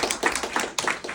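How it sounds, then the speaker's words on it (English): A crowd claps at a Democratic get-out-the-vote political rally in Monmouth County, New Jersey, in a short, close burst of uneven, rhythmic clapping. "shamelessly fishing for applause"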